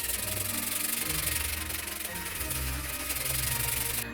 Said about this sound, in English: put it up and sand it